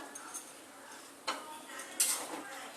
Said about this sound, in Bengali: এবার নাড়া দিয়ে নেবো একবার